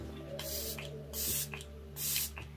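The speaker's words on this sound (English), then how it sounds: "I'm gonna use my e.l.f. Micro Fine Setting Mist Day All Night." An e.l.f. Micro Fine setting mist is sprayed in three bursts, each a short, loud hiss, spaced about a second apart, over a quiet background hum.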